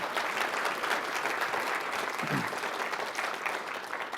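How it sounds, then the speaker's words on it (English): Sustained audience applause for basketball player Breanna Stewart at the AAU Sullivan Award event, an even wash of many hands clapping throughout, with a faint brief voice in the middle. "a round of applause for Breanna"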